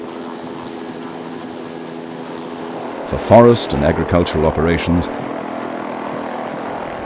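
A helicopter's steady rotor and engine drone runs throughout, heard as a constant background hum while someone narrates over it.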